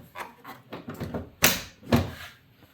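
A Ford Sport Trac door being shut after a latch repair: a series of light clicks and taps, then two sharper, solid thunks close by, with no talking.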